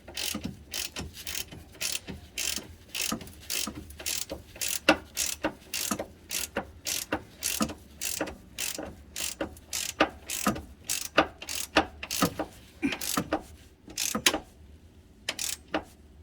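Ratchet wrench tightening side bar bracket bolts on a 2012 Ford Escape, a close, steady run of quick clicking strokes in repeated bursts with brief pauses, no talking.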